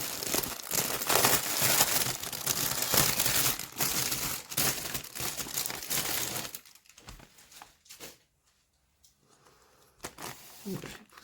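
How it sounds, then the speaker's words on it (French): Paper crinkles and rustles loudly and close by while a latch hook rug kit is unboxed, busy crackling for about six seconds before dropping to quieter handling sounds and near silence. "donc désolé hein, pour les bruits de papier"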